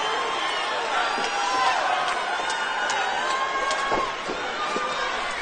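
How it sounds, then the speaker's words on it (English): Boxing crowd cheering for Roy Jones Jr. at his hometown final fight, a steady roar of an arena audience with scattered whoops and shouts, a commentator's voice running over it. "The crowd just cheering for Roy Jones Jr. here tonight."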